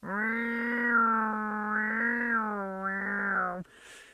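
A pet cat named Beanbag lets out one long, drawn-out meow lasting several seconds, loud and close with a wavering pitch before it cuts off abruptly.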